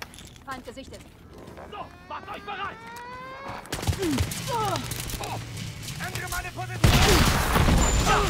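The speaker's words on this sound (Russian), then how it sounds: "это вот эта вот пушка, что так стреляет?" Rapid automatic gunfire from a first-person shooter, Wolfenstein: Youngblood, rattles in bursts with other game effects, loud and growing denser toward the end, while someone talks over it.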